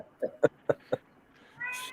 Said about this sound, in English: I think I hear a cat.